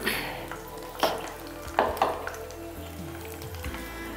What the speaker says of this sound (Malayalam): ഇതിലേക്ക് സവാള ഇടാം.